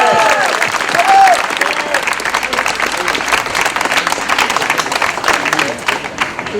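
An audience at a Paris gathering of politicians, citizens and residents applauds for Philippe, a loud, dense wash of clapping from a nearby crowd that keeps going throughout.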